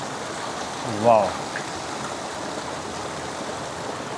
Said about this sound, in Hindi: और इसके बराबर में खूबसूरत सा झरना।